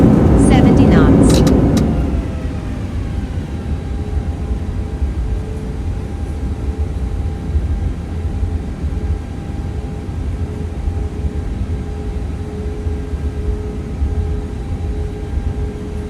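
An A320neo on landing rollout in bad weather, reverse thrust roaring loudly at first then easing into a steady rumbling drone of engines and braking as the aircraft slows, with cockpit voices over it.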